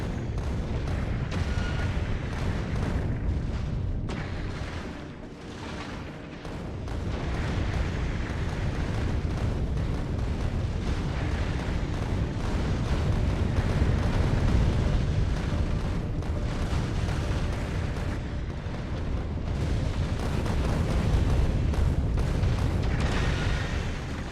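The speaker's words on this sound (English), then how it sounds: "we've got some more explosive rockets going on now" Explosive rockets keep bursting in Factorio, a dense, steady barrage of booms and rumbling blasts that runs on without a break, with no talk over it.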